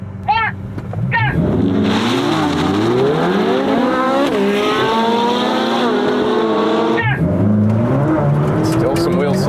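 A Ferrari 488 Pista and a 488 Speciale launch side by side in a drag race, engines revving hard and climbing through rising gear sweeps with a loud, close roar, while people talk over the start and finish.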